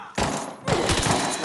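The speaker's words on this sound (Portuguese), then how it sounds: "Mano, dei muito tiro." Gunfire in the video game Arena Breakout: two loud, close bursts of rapid shots separated by a short lull, the second burst longer and heavier.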